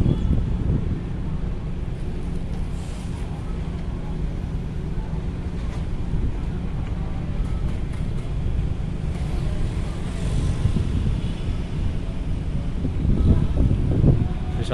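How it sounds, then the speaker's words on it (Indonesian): Strong wind at Bakauheni ferry harbour buffets the microphone in a continuous low, rumbling roar, loud and steady throughout with gusts swelling near the end. "Anginnya kenceng, ombaknya lumayan."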